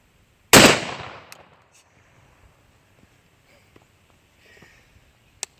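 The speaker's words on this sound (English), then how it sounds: "He's going to lead us off here with the 12 gauge." A single loud blast from a 12 gauge shotgun fired at a target range, a sharp close report with a fast decaying tail, followed by faint scattered small clicks and quiet handling noises.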